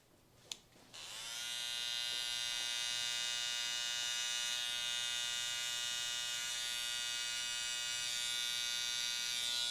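Electric beard liner trimmer buzzing steadily and close up while a barber shapes a sharp beard line and corners, a continuous harmonic whine running alone after a brief click at the start.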